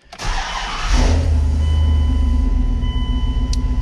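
A Dodge with a JTEC engine computer cranks and fires up after a fresh HP Tuners tune write, settling into a loud, steady idle close by.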